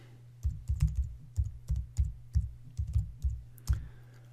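Fingers typing a project name on a computer keyboard, a near, dry run of separate key clicks in short irregular bursts with brief pauses between, alone in a quiet room.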